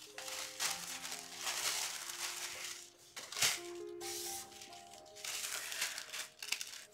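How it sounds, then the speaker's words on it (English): Tissue paper being unfolded, crisp close crinkles and crackles in uneven bursts, with a sharp rustle midway and short quiet pauses between handlings. "Go ahead and open up your tissue paper."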